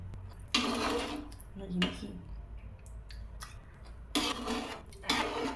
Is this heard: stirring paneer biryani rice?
yes